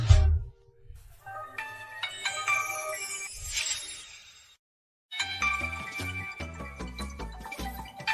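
A phone ringtone plays a bright, tinkling melody, pauses briefly, then starts up again with repeated chiming notes over a soft low pulse.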